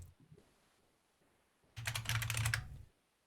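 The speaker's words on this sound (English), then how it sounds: "I guess was that a Mac keyboard, Raymond?" A brief, quick burst of typing on a Mac keyboard, a rapid run of close, crisp key clicks lasting about a second after near silence.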